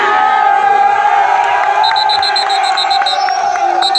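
A large crowd cheers and shouts for the St. Louis Gonzague 2017 football (soccer) champions, a loud, dense, continuous roar of voices with scattered whoops and whistles throughout.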